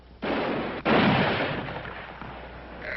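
Gunfire in a 1960 western TV drama set outdoors, two sharp close shots about half a second apart, each followed by a long fading echo.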